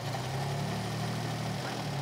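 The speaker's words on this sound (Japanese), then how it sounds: "次にメインスイッチを始動の位置まで回しエンジンを始動します。" A small fire pump engine, VF63AS or VF53AS model, runs at a steady idle after starting, a constant low droning hum with no break.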